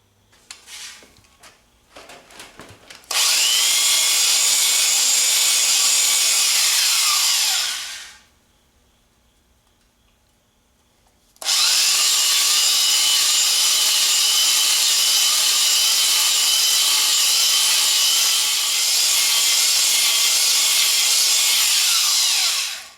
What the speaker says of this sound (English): Gotta fine hone it now.